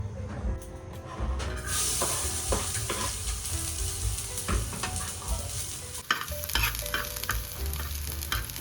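Food sizzles in hot cooking oil in a pan while it is stirred for a pesto dish, giving a steady frying hiss with repeated scraping and clinking from the utensil.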